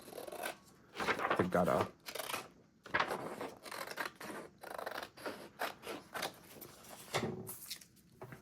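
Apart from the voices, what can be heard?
cutting paper with scissors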